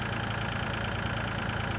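In the video game Farming Simulator 2013, a tractor engine chugs and strains as it pulls a massive trailer full of corn, holding a steady, loud drone throughout.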